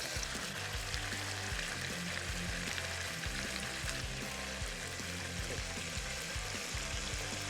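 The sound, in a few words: searing beef in oil, fat rendering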